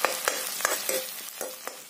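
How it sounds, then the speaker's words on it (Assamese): Onions and dried chilies frying in hot oil in a pan, a steady close sizzle broken by repeated scraping knocks of a stirring spoon, with no talk. "পিঁয়াজকেইটা অকণমান কমচুৱা নোহোৱালৈকে তেলত ভাজিব লাগে"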